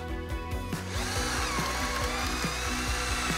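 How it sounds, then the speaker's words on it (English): Power drill boring an angled tap hole through bark into a tree for backyard maple sugaring, a loud steady motor whine with a regular rhythmic chatter as the bit cuts into the wood, close and alone. "We want to go in, try to clear the bark into a clear spot, and one drill in on a slight angle."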